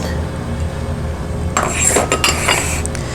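Watermelon salsa with onion and cucumber being stirred in a bowl, starting as quiet background before a run of clinking utensil taps and scrapes against the bowl in an irregular rhythm.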